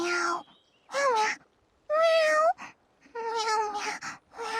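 A cat meows in the Infinity Nikki video game, four or five distinct, clear mewing calls in separate bursts with short pauses between them, loud and close, with no talking.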